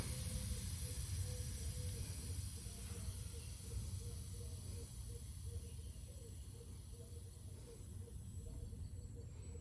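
Air hisses steadily out of a bicycle tire on an aluminum rim as it deflates, a close, continuous rushing sound that lasts the whole stretch with no talk.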